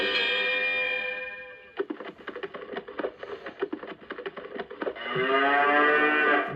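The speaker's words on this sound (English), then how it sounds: "it does do automatic mooing while it's at a standstill" Lionel VisionLine Pennsylvania toy train stock car plays recorded cattle mooing, long sustained moos at start and end with a clattering rhythmic passage between, loud and close with no talk.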